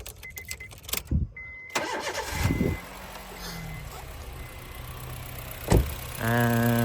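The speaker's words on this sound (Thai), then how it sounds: "เรามาฟังเสียงเครื่องยนต์ กันนะครับ" A few clicks and a short cranking attempt, then a 2009 Honda City 1.5 SV engine catches and settles into a steady idle, close by.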